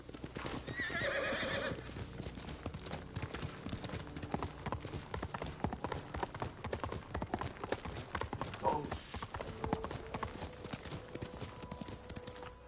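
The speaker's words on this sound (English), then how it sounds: "I was looking at the text before while riding a horse" Horse hooves clip-clop steadily in Ghost of Tsushima while the character rides, with a clear whinny early on, the galloping rhythm running continuously over a dense game soundscape.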